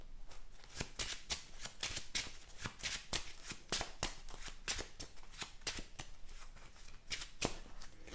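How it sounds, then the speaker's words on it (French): A deck of Marvel Champions cards is shuffled to mix a card back in, giving a close, rapid series of crisp riffling card flicks in an even rhythm throughout. "Donc je la mélange dans mon deck."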